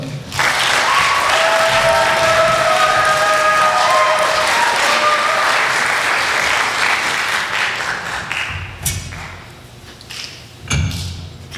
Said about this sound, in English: I'd like to give one last round of applause for bel canto.